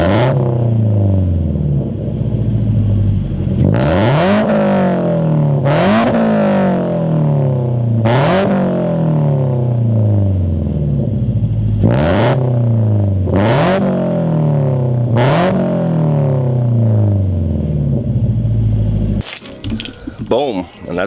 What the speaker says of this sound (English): Hit the exhaust a couple times